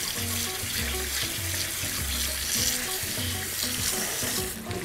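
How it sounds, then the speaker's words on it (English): Kitchen tap running cold water over freshly steamed vegetables, a continuous hissing splash, fairly loud and steady, with a few clinks and pulses underneath. "Give those a shot of cold water to stop the cooking."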